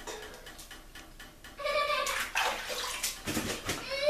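Tap water runs while the face is rinsed during a wet shave, a steady splashing rush that starts after a quiet opening and continues with small fluctuations to the end.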